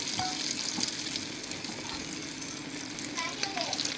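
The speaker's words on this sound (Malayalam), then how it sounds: "ഇനി നമ്മൾ ബാക്കിയിരിക്കുന്ന മാവെല്ലാം നമ്മളിതുപോലെ പക്കവട ഉണ്ടാക്കിയെടുക്കുകയാണ്" Pakoda made from idli batter frying in hot oil: a dense, steady sizzle and bubbling that fills the whole stretch, close and fairly loud, with a faint voice in the background.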